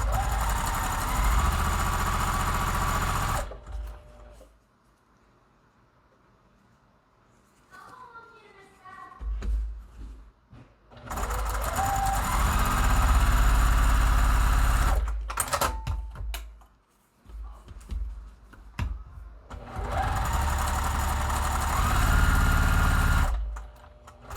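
Sewing machine stitching white and print quilt fabric pieces with a short stitch length, loud steady motor whirring in three long runs separated by quieter pauses with handling noise and a brief voice.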